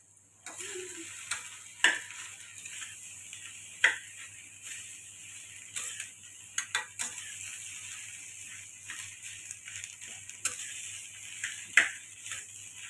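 Potatoes being stirred in a frying pan for a dry potato bhaji, faint low sizzling with a handful of scattered light scrapes and knocks of the spoon against the pan.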